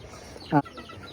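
A single short, loud cluck from a Veselka cross breed hen stands out above faint, steady farmyard background noise.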